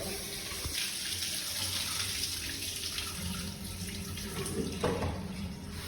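Tap water runs steadily into a sink while farm-raised pond fish are rinsed by hand, a continuous close splashing flow with small clunks and shifts as the fish are handled, no talking.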